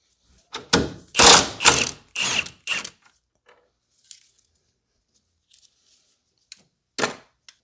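A ratchet wrench loosening a valve cover bolt on a 2016 BMW M235i's 3.0 L turbo N55 engine: several loud, close ratcheting bursts in quick succession, then a few faint isolated clicks and one last short burst.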